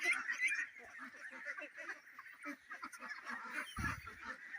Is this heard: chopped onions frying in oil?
no